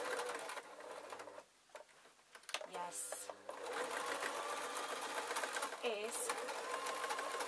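A home sewing machine stitches fabric for a snip tray in short runs of rapid mechanical whirring, near and fairly quiet, with a brief pause and a voice speaking softly in the room.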